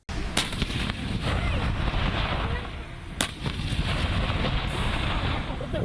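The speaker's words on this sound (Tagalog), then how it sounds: "Mounted ng 105mm cannon, sunod-sunod na tinarget ng mga Sabra Light Tank ng Philippine Army ang mga kunwari kalaban" A Philippine Army Sabra light tank firing its mounted 105mm cannon during a live-fire exercise at Camp O'Donnell: booming blasts amid loud, continuous wind-buffeted outdoor roar, with two sharp cracks standing out.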